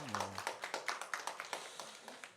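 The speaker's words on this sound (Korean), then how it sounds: "박수로 한번 환영하겠습니다" A small church congregation claps to welcome returning members, about a dozen sparse, fairly quiet claps in a loose rhythm, with a brief low voice at the very start.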